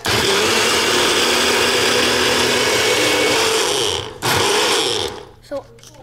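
A blender runs loud and close, mixing a healthy fruit shake with protein powder. The steady motor roar cuts out, briefly restarts, then stops, leaving a short knock afterwards.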